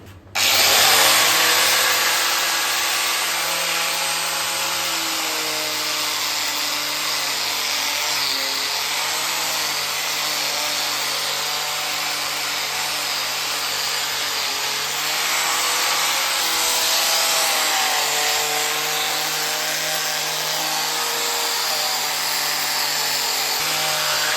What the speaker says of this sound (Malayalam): നമ്മുടെ ഗ്രൈൻഡിങ് മെഷീൻ്റെ അന്നേരം നമുക്ക് ബഫിങ്ങിൻ്റെ ഫസ്റ്റ് സ്റ്റേജിലേക്ക് കടക്കാം